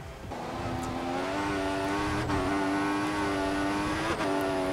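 A Formula 1 car engine at high revs in the racing game F1 2014, driven flat out at the Italian circuit: a steady, loud, high-pitched whine with brief dips at gear changes, close and continuous.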